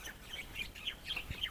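Small birds chirp around their nests in the limestone ruins of Wat Mahathat at Sukhothai Historical Park, with several faint, brief high tweets scattered over quiet outdoor ambience.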